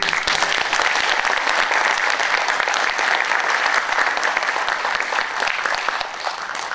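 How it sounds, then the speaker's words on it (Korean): Sustained, dense applause from an audience at a June Democracy Movement anniversary ceremony, steady and loud throughout, tapering slightly near the end. "격려의 박수 좀 부탁드립니다"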